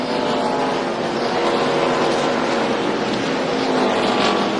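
Stock cars in the 2001 Autolite/Fram 250 circling under a caution flag after a crash, a steady, loud, broadband engine roar with no breaks for the whole stretch.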